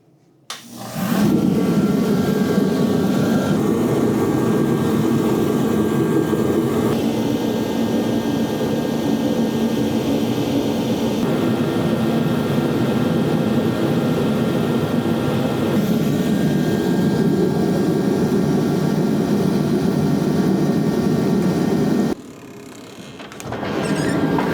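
A Mr. Heater 80,000 BTU forced-air heater fires up in brutal cold and roars steadily like a small jet, cutting out briefly near the end before the roar resumes, with no talk.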